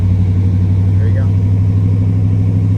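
A 1970 Pontiac Grand Prix Model J engine idles with a steady, loud low rumble, holding an even drone throughout with no strong rise in revs.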